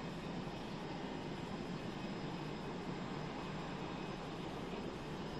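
Civilian airplanes taxiing at an airport in China during an arrival ceremony produce a loud, steady, continuous jet-engine roar with no pauses.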